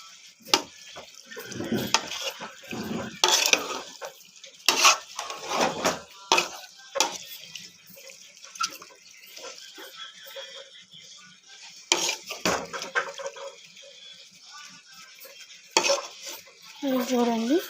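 Chicken fries in oil in a pan while a spoon stirs and scrapes it in irregular bursts, with soft sizzling underneath and occasional utensil clinks, and no talking.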